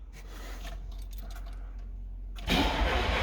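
A car engine cranks over with rapid clicking and whirring for a couple of seconds, then catches and starts with a louder, steady roar.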